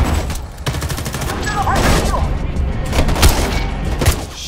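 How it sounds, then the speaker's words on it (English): Sniper fire and other gunshots in the video game Homefront: The Revolution, several sharp reports and thuds at uneven intervals over a continuous battle din, loud and fairly close. "I just gotta find out where exactly they're shooting at me."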